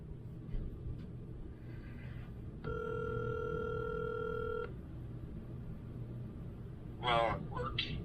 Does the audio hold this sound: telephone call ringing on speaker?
yes